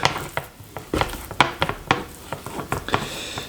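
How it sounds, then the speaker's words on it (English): Venison cubes being stirred with paprika in a pot for goulash, a string of close clacks and scrapes of a utensil against the pot with soft wet shuffling between them. "Gonna mix it all up"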